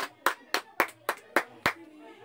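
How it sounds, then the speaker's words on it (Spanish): Seven sharp, separate hand claps in a slow, even rhythm, close and fairly loud, followed by a short quiet tail. "Un aplauso para Lolo."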